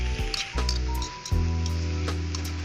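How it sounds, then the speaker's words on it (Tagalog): Marinated pork steak in a hot pan gives a loud continuous sizzle with bursts of crackle, and it grows denser after about 1.3 s as more meat goes in. "Pagkatapos ng marinate, pwede na prituhin."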